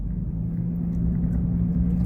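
A car rolls along during a driving lesson, apparently creeping forward without the gas pressed, giving a steady low engine and road rumble from inside the cabin with no talk.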